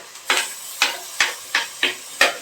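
Garlic paste and spices fry in a pan under about six rhythmic scraping stir strokes, with a soft sizzle between them.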